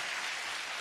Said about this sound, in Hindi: अरे ताली क्यों बजा रहे हो?